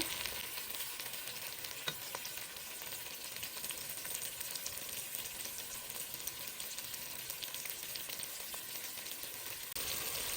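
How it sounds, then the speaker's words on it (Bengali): Prawns frying in oil in a pan for a malai curry, producing a dense, steady sizzle that carries on unbroken and close, with occasional faint spatula taps. "হালকা করে একটু ভেজে নেব। চিংড়ি মাছ ভাজতে কিন্তু বেশি সময় লাগে না।"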